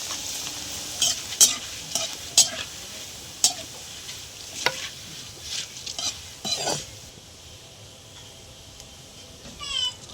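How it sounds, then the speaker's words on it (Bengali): Flattened rice (chira) fries in hot oil a handful at a time. A soft, steady sizzle is broken by repeated sharp scrapes and clinks of stirring in the pan, with no talking. "তো আমি এক মুঠো করে চিড়েগুলো সব ভেজে নেব"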